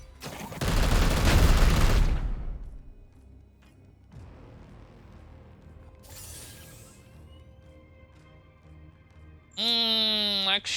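A loud burst of rapid gunfire from the Warhammer 40K game Chaos Gate Daemonhunters rattles for about two seconds and fades. A quieter stretch follows, then a bright, rising electronic chime near the end.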